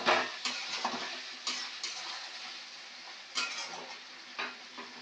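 Chicken kosha being stirred in a frying pan, a soft continuous sizzle punctuated by several sharp scrapes and clinks of a spoon against the pan, close and clear with no talking.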